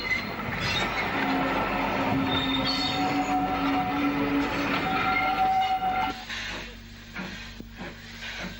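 An inbound train on the Isle of Wight single line rumbles in with a long, steady tonal whine and squeal from the wheels, the noise swelling nearby and then thinning out as it slows.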